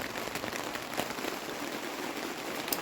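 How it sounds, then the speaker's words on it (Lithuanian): Rain falls outside a greenhouse with tomato plants, a dense steady patter of drops on the roof and surroundings, close and even throughout. "nuo lietaus, lauke lyja."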